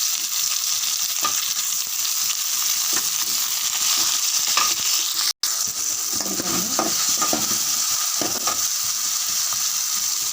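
Loud, steady sizzling of vegetables, including eggplant and tomato, sautéing in a hot pan, with occasional stirring clinks, continuous throughout.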